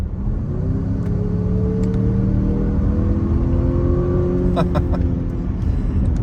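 A deep, rumbling artificial engine tone played through the speakers of a Jaguar F-Pace P400e swells and rises steadily under acceleration, a smooth continuous drone with a faint click or two near the end.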